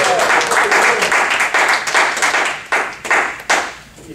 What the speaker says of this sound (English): please give a round of applause to Jacob.